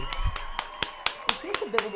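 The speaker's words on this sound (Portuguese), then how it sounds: "Palmas pra Anne." In a podcast studio, a few sharp, evenly spaced hand claps ring out close by for a guest named Anne, with people talking over them.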